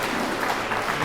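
Clapping from the congregation at a sung funeral in Pleine Mapou, a brief, continuous wash of applause at moderate level with no voices over it.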